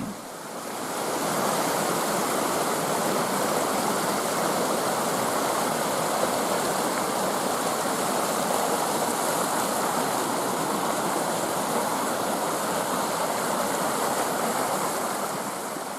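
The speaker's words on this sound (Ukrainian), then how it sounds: "Дивитися на воду, що біжить, одна з трьох речей, на які можна дивитися нескінченно." Steady, rushing water flows continuously without pause, a broad hiss like a fast stream or river close by, with no voices.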